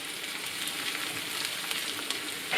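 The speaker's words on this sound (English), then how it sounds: "when that little bit of onion is sizzling, add the rest of the onion and let that saute for about 5 minutes" Onion sautés in a hot pan with a steady, close crackling sizzle that holds at an even level throughout.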